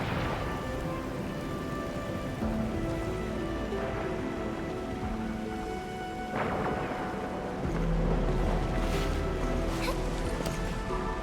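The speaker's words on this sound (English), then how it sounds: "It's raining harder. I can't hear anything except for the rain." Steady rain hisses over a scene in the game Arknights: Endfield, with low rumbling and occasional louder splashy bursts, continuous throughout.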